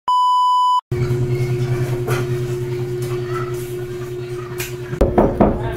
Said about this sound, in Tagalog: kumakatok